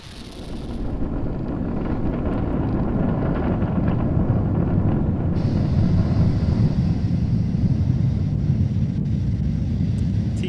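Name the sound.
SpaceX Falcon 9 rocket launching Cargo Dragon, liftoff roar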